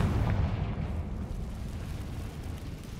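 A Confringo explosive spell cast in Hogwarts Legacy bursts with a loud, booming blast at the start, then rumbles on as a deep, dense roar that fades only slightly over the few seconds.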